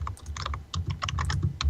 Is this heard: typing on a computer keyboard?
yes